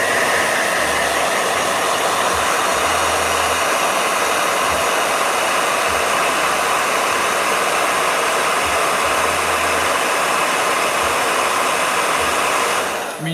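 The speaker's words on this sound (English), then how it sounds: "you're talking to someone who's using a blow dryer to speed things up" A hair dryer blows steadily on wet oil paint during a sketching session, a continuous loud whirring roar that holds without a break before cutting off at the very end.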